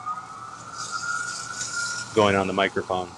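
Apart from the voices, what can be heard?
sirens in the distance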